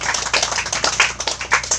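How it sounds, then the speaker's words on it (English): A church congregation claps during a worship service in a quick, rhythmic pattern. Distinct bursts of claps repeat evenly at a moderate level for under two seconds, with no voices over them. "You can clap for Jesus"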